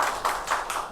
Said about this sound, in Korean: 은혜로운 찬양해 주신 성가대 우리 다시 한번 감사의 박수하겠습니다.